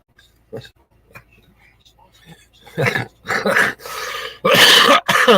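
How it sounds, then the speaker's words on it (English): A few dry coughs and throat-clearing bursts, close and fairly loud, after quiet breathing and small noises at the start. "I still cough when I laugh."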